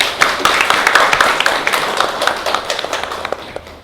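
An audience in an Indonesian classroom lecture gives a brief round of applause, a dense patter of hand claps that starts strong and gradually thins and fades over a few seconds.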